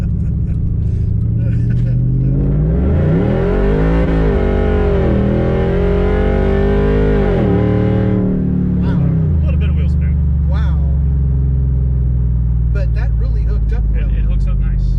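A Coyote-swapped four-door truck with a 4-link rear suspension revs hard after a 2-1 downshift, its V8 note rising and then falling over several seconds, loud and close, then settling back to a rumbling idle-like drone.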